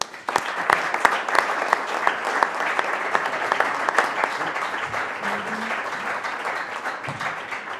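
A hall audience gives sustained applause for award winner Cristina Garmendia at a humanism and business forum prize ceremony, dense steady clapping that holds evenly throughout and stays loud and close.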